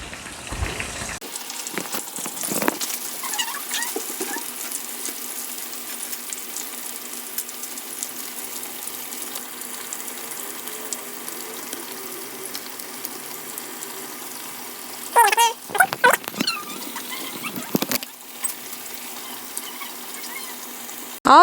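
Cassava pieces fry in hot oil with a steady, soft bubbling sizzle that runs throughout, broken near the end by a few louder clattering handling noises.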